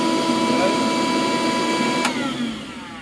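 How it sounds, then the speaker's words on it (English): A small vacuum cleaner runs on shore power, a steady close motor whine that starts to wind down near the end. "I'm testing this my little vacuum cleaner"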